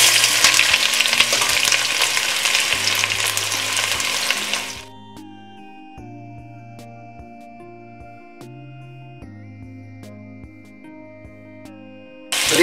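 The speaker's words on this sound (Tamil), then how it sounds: "ஸோ இப்போ வெங்காயம் போட்டுருவோம்." Onions dropped into hot oil with fried green chillies sizzle loudly for a few seconds, then the frying fades and the pan falls quiet under low background music.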